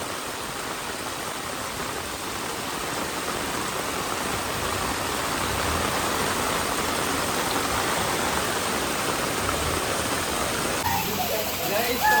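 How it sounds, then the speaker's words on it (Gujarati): Heavy monsoon rain in Morbi, Gujarat pours down in a dense, continuous roar, blending with the rush of flowing floodwater, loud and unbroken from start to finish. "આટલું પાણી આવે, હજી પણ ચાલુ જ છે વરસાદ."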